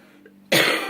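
A person lets out one harsh, close cough during a seated meditation session, a sudden loud burst after near silence.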